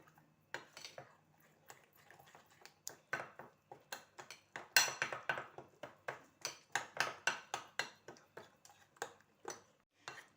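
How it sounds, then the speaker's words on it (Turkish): A spoon clatters and taps rhythmically against a bowl while cornmeal batter with eggs, baking powder and salt is mixed, giving quick, close, bright clinks in a steady beat. "Hepsini karıştırıyorum arkadaşlar"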